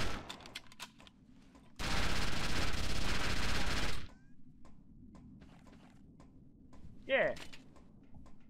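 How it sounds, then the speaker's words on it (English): Sustained automatic gunfire from the shooter game XIII, with several weapons emptied in one continuous loud burst of about two seconds. Scattered softer thuds and game effects come before and after it. "The one where I run all my guns empty because I win."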